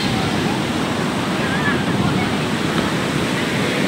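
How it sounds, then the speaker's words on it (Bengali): Gusty wind and surf on the sea beach at Puri under a cloudy sky after light rain, a steady loud roar of wind buffeting the microphone with breaking waves beneath, continuous throughout. "এখন ওয়েদার খুব সুন্দর, মেঘলা আকাশ, ঝোড়ো হাওয়া দিচ্ছে।"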